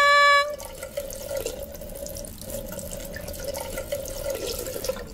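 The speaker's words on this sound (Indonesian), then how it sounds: "Menyalakan kerannya." Water runs steadily from a turned-on tap into a sink, a continuous splashing flow with a bright hiss that carries on throughout, close and fairly loud with no voices.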